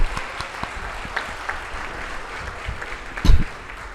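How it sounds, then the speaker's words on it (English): Applause from a crowd at an international conference, scattered claps at moderate volume, with one louder thump near the end. "Clap for them."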